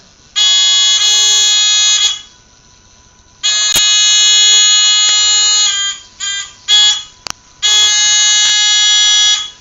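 A fischertechnik driving robot's loud electronic buzzer sounds in long harmonic bursts, then a few short stuttering beeps, then another sustained blast.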